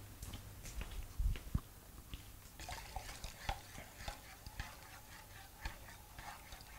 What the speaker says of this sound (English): I'm going to come back and stir again.